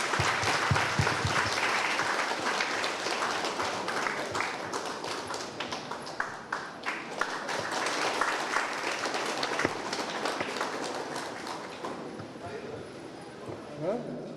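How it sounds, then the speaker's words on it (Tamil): Steady applause from an audience at a free medical event fills the space, a dense clatter of clapping that swells and continues throughout, with some voices mixed in. "அனைவரும் கரகோஷம் அடித்தது"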